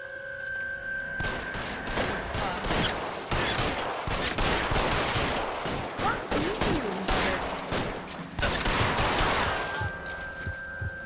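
Rapid volleys of gunfire crackle through a shootout in the 1940s Los Angeles detective game L.A. Noire, dense and loud across most of the stretch, with a tonal hum fading in and out at the edges.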